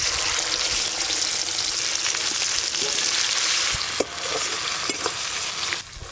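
Spice paste frying in hot mustard oil for an egg curry, a steady loud sizzle filling the clip with occasional stirring scrapes, close and continuous, dropping slightly near the end.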